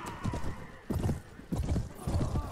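Horses galloping in the video game Mount & Blade Warband, rhythmic bursts of clip-clopping hooves rising and falling at moderate distance, with battlefield noise beneath and no talk.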